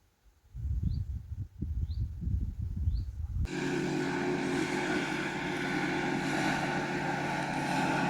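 A small outboard motor on a fishing boat on the Desna River drones steadily at close range after some rustling and handling noises, its hum continuous and fairly loud.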